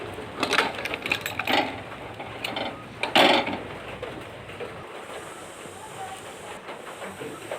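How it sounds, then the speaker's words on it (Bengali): A pressure cooker on a gas stove boiling potatoes gives off sputtering bursts of hissing steam, loud and close, over a constant rushing background, with a voice talking at times. "4টে সিটি দিয়ে নেব প্রেসার কুকারে।"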